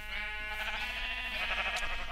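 A sheep in Minecraft gives a single drawn-out bleat, loud and close, sounding alone for about two seconds.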